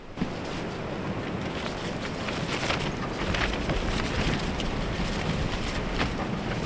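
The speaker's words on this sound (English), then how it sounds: "Do you hear the wind?" Strong wind of a snow storm roars steadily against a hot tent in arctic cold, a loud continuous gusting rush with no pause and no voices.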